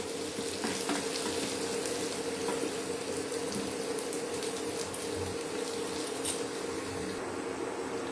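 Kasuri methi (dried fenugreek) and chopped garlic frying in oil in a pan, giving a steady, close, even sizzle that holds for the whole stretch with no talking.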